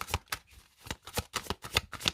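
A deck of tarot cards being cut and shuffled by hand, giving a rapid series of soft papery riffs and flicks, about eight brisk bursts close up with no talking.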